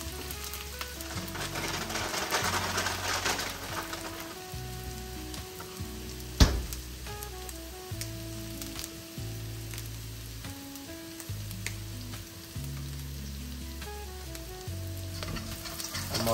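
Ginger and garlic sizzle in a hot pan while being stirred for chilli chicken, a steady crackling fry with a sharp spatula scrape midway and steady background music underneath, no voices.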